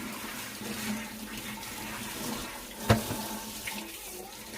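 Tap water runs steadily into a sink while vegetables are washed under it, a close continuous splashing stream with a brief louder splash partway through.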